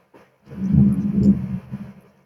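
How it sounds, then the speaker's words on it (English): Thunder from a storm comes in through open windows as a deep, muffled rumble that swells for about a second and a half, then fades away. "Oh boy, there was a little thunder."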